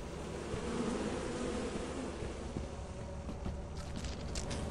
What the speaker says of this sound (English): we're gonna try and get the beehive, okay?